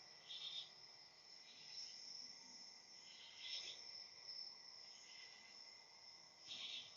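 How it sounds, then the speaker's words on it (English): A Chinese cricket kept as a pet chirps in a steady repeating pattern, with several bursts of high, buzzy pulses against a continuous faint ringing tone, quiet and close with no talking. "when you listen to a cricket, it's going chip, chip, chip, chip, chip, chip, chip, chip, chip, chip"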